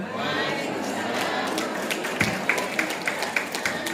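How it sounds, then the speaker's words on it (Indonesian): Guests applauding at an anniversary celebration of the Basiba Rancak Bana group in Batam, a steady wash of clapping with sharper individual claps standing out toward the end. "Sekali lagi kita berikan tepuk tangan yang meriah untuk Ketua Basiba Kota Batam"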